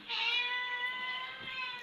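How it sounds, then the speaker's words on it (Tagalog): A single drawn-out cat meow, clear and fairly close, lasting nearly two seconds with a faint background hum. "May pusa kasi dito."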